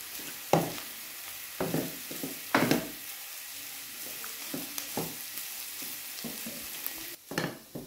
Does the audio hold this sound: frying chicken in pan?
yes